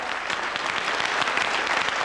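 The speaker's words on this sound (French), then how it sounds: "Merci Jean-Robert Chaplet, on peut l'applaudir, oui, oui, oui." Studio audience applauding during a 1984 French television variety show, a dense, steady wash of clapping that stays loud and even throughout with no voices on top.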